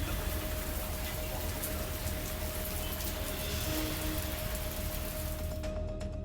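Steady rain falls during the monsoon in Gujarat, a dense continuous hiss that holds at an even level for several seconds with no voices over it.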